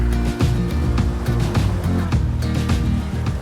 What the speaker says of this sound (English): the wind has kind of died down out here and the waves have gotten a little smaller